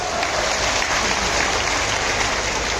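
Audience applause at a public rally in Dindori, a steady dense wash of clapping from a large crowd, loud and continuous throughout with no clear individual claps.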